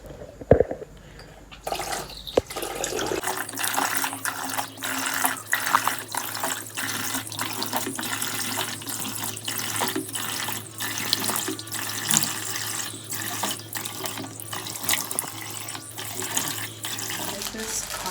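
Tap water runs steadily into a sink during a rinse, a constant close splashing stream that starts after a few seconds of quieter handling noises and continues to the end, with no talking.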